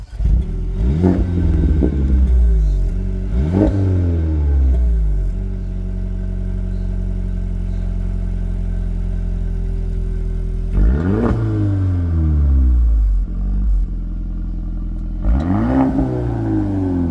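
Car, likened to a Mercedes A45 AMG, revving and pulling away from a standstill in repeated bursts, each rising sweep climbing then falling, loud and close, with a steady idle between runs.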